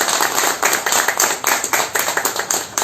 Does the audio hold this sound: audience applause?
yes